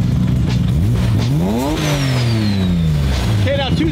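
Ferrari 458 GT3 widebody race car engine revving hard, loud and close, pitch sweeping up sharply then falling back, followed by a second quick blip; voices talk faintly underneath.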